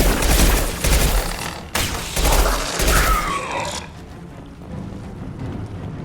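Loud, dense gunfire from a Mass Effect firefight, rattling for roughly four seconds with a sharp crack partway through, then dying down to faint background noise.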